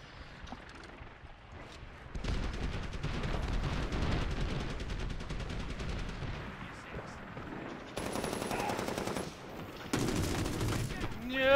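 Dense battlefield din from the shooter game Medal of Honor Warfighter: sustained rapid gunfire and booming explosions roll on almost without pause, loud and layered, with sharper bursts swelling in near the end.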